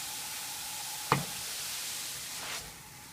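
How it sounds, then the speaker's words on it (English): Low, steady sizzle of meat simmering in a pot of chili over a flame, faint and continuous, with a couple of brief knocks from the pot. "You can see the flame that I've been using to just keep this meat kind of simmering."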